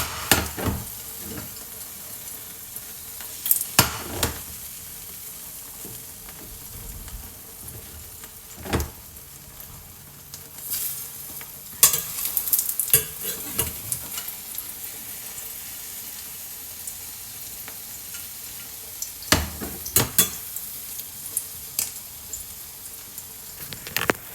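Beaten egg for Thai crispy scrambled egg frying and being stirred in a hot pan, a steady sizzle broken by repeated sharp scraping strokes of the utensil, close and fairly loud with no talking.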